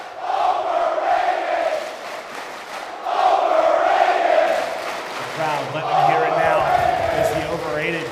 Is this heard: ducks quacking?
no